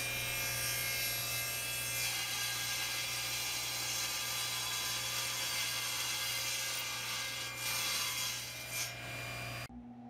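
A table saw with a crosscut sled trims a cherry bookshelf, its steady motor hum under a sustained cutting whine, then the blade spinning down at the end.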